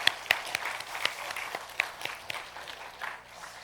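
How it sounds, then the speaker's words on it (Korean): A church congregation at a Korean Methodist thanksgiving service gives scattered, fairly soft applause for students. Individual claps stand out irregularly from a wash of hand clapping in a large room. "우리 학생들을 위해서 한번 박수 한번 해주시지요"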